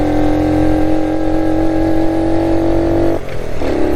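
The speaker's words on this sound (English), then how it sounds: "Beautiful day for a motorcycle ride." A motorcycle climbs a hill at altitude with its choke knob pulled out, its engine a loud, steady close-up drone that briefly dips and changes pitch near the end as it shifts up a gear.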